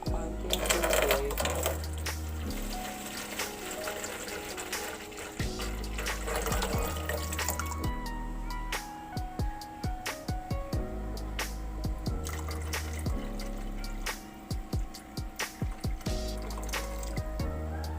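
Tap water runs into a sink to wet makeup brushes, a steady splashing trickle beneath louder mechanical whirring and tonal background sounds, with a faint voice at times.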